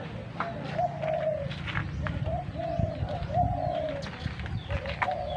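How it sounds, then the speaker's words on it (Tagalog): Pigeons coo repeatedly in soft, rolling phrases amid a dense chorus of other birds chirping, with a steady low background rumble. "daming ibon dito oh."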